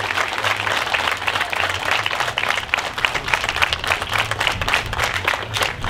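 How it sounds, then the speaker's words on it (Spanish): A theatre crowd gives street comedians a strong, continuous round of applause, dense and loud clapping that holds steady throughout with no speech over it. "Señores, regálenme un fuerte aplauso, pero con ganas."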